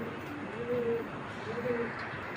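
Belgian racing pigeons coo twice, soft rolling calls a moment apart, close by over a steady low background hum.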